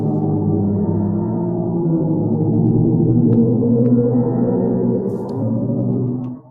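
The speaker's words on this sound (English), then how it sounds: "That is the sound of a black hole in a distant galaxy." A sonified black hole in a distant galaxy plays as a loud, dense, low droning hum with layered wavering tones, steady for about six seconds before fading out.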